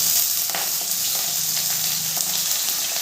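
Potatoes, beans and carrots sizzle steadily in hot oil for chira pulao, a soft continuous frying hiss with faint clinks of stirring.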